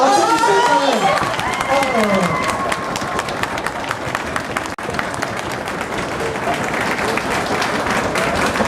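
Crowd applause at a gathering with parents, a dense, continuous wash of clapping mixed with voices and a sung or shouted tone at the start, staying loud throughout.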